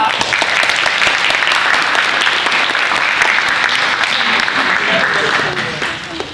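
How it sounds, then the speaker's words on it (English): A school service-day audience applauds. Dense, loud clapping holds steady for several seconds and then starts to fade slightly at the end. "I want you all to give yourselves a round of applause"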